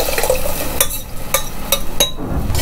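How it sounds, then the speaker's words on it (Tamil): A prepared fish kuzhambu mixture is poured into a pan of fried tomato and onion, making a wet splashing sizzle punctuated by several sharp clinks of utensils against the pan. "நம்ம ரெடி பண்ணி இருந்த குழம்பு கரைசலை வந்து சேர்த்துக்கறோம்"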